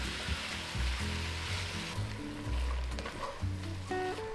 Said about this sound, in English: In a large pot, saute tomatoes for 1 to 2 minutes, followed by onion for another 4 to 5 minutes